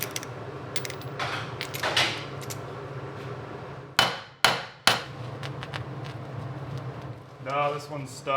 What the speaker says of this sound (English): this one's stuck. Just ripping the bearing apart.